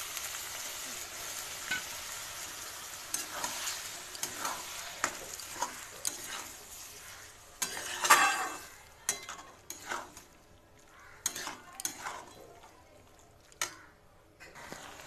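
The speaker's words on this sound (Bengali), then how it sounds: "এবারে সেদ্ধ করা মটর আমি দিয়ে দেবো এর মধ্যে।" Boiled peas stirred into sizzling sautéed masala for ghugni in a pan, a continuous frying hiss under repeated scraping spoon strokes, close and moderately loud throughout.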